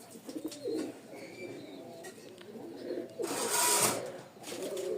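Pigeons for sale cooing nearby, several soft low coos in a loose rhythm, with a brief brighter flutter or scrape partway through, and no speech.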